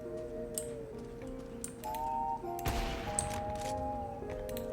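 A sniper rifle fires in a video game: one sharp, loud shot cracks out midway through a steady bed of tonal game music and soft background effects.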